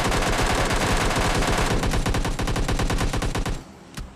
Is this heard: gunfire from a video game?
yes